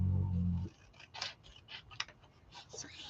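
Scissors cutting paper for a folio craft project, with a series of small, close snips and crisp blade clicks at an uneven pace, faint and alone after a brief low sound at the start.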